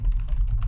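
Keys typed on a computer keyboard while writing JavaScript code, a short run of soft keystrokes sitting over a steady low hum, close to the microphone.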